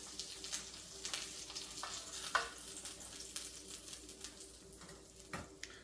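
Breaded pheasant pieces frying in hot oil, four at a time: a steady, faint sizzle and crackle with scattered pops, heard close and with no talking.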